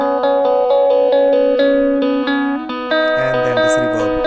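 An electric guitar passes through a saturator and compressor while mixing in FL Studio, playing repeated sustained chords with a thick, slightly distorted tone, then a busier phrase with lower notes near the end.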